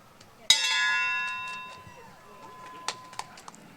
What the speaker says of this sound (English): And I get to lead off the ring for the for the bell.